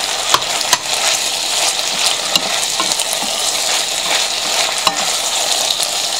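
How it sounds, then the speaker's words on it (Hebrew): Chopped garlic and softened peppers fry loudly in a pan with a steady bright hiss and crackle, broken by a few sharp ticks from the spatula stirring them. "אני מטגנת משהו כמו"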